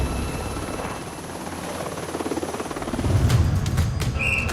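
A navy helicopter lands on the deck of a moving multi-mission frigate. Its rotor chop and turbine whine carry loudly and steadily, with the pitch deepening and swelling louder toward the end, and no voices are heard.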